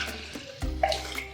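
Water is poured into a container while preparing plant-based nut gelato in a kitchen, a short close splashing gurgle that lasts about a second.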